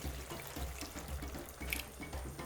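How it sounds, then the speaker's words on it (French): Water runs steadily into a cooking pot of jollof rice for a couple of seconds, a continuous splashing pour with faint gurgling, close by. "Je viens rajouter un fond d'eau."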